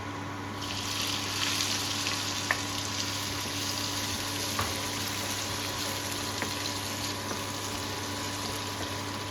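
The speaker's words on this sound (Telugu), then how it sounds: "ఇప్పుడు 1 ఫైన్లీ చాప్డ్ ఆనియన్ వేస్తున్నాను." Finely chopped onion fries in a pan with a steady close sizzle, plus a few faint clicks of utensil contact.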